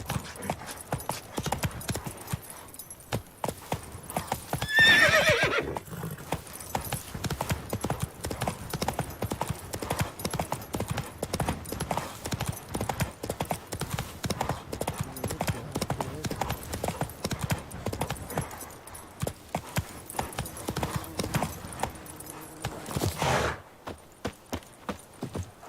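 A horse gallops in The Witcher 3 video game, its hooves drumming in a fast continuous clip-clop close up, with brief voices and a faint whinny over it before the hoofbeats stop near the end.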